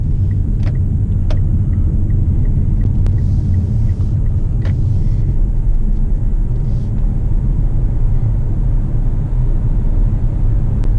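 Mitsubishi Outlander PHEV driving in electric mode, a steady low road rumble and tyre roar inside the cabin with faint ticking, no engine note rising over it.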